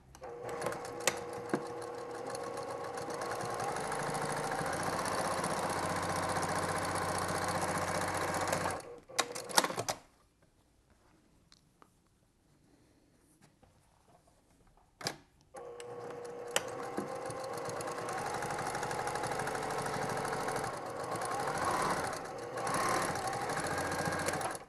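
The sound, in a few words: sewing machine stitching quilt strips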